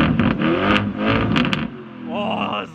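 An 800 hp Lamborghini Urus Mansory Venatus engine revs up sharply with a loud exhaust roar, then eases back down, heard up close with a voice briefly talking near the end.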